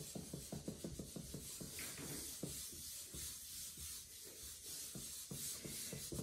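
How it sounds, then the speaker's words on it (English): A hand rubs and smooths white charcoal across black drawing paper, producing a continuous soft papery rubbing with quick rhythmic strokes at first, then slower sweeping passes, close and fairly quiet. "And smooth it all out once again with my hand."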